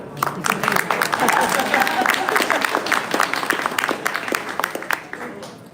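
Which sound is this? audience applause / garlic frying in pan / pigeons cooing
audience applause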